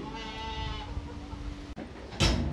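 A two-and-a-half-month-old lamb bleats once, a wavering drawn-out call close by, while being set on a scale for weighing, followed by a brief clatter.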